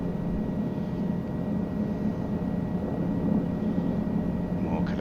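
A Guimbal Cabri G2 helicopter in Microsoft Flight Simulator sits on a runway, its engine and rotor giving a steady, even drone with no break in level throughout.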